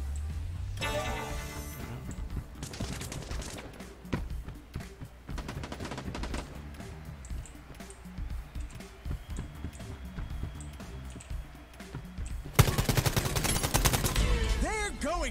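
Rapid gunfire in the Quantum League video game, bursts of shots scattered through a busy game soundtrack, growing denser and louder near the end.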